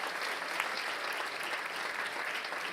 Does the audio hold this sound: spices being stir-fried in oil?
no